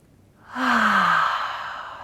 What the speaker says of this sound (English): Let's throw some really big exhales out there. Open the mouth.